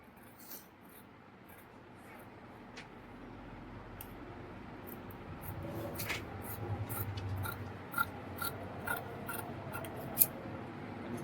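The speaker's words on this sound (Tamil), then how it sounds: "இப்போ இந்த கரெக்டான அளவு வந்து நம்ம மார்க் பண்ணிவிட்டு இந்த ஷேப்பை மட்டும் கட் பண்ணிக்கலாம்" Scissors cut blouse lining fabric along a marked shape in a quiet room, heard as soft, close snips and rustling that grow slightly louder toward the end, with no talk.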